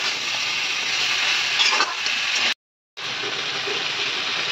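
Sliced papaya sizzles in a pan over a high flame, a loud, steady, bright hiss that cuts out abruptly for a moment before resuming just as strongly.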